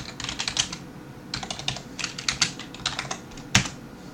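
Someone types a short command on a computer keyboard, a quick run of light key clicks in small bursts with brief pauses, ending in a firmer keystroke like an Enter press, close and fairly quiet.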